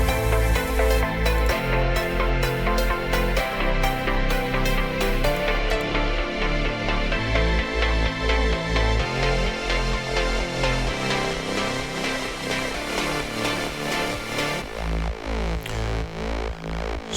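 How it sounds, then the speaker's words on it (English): Full EDM build-up with layered supersaw chords, driving bass and rhythmic pulsing, every part playing except the lead synths, loud and steady, opening up brighter toward the end. "Together all of the instruments except leads sound like this."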